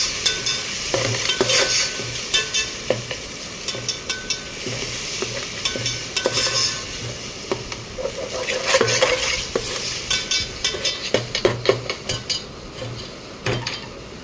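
A spoon stirs a ginger, garlic and cardamom paste frying in a pan, with repeated scraping and clinking strokes over a soft sizzle, close and steady throughout with no talking.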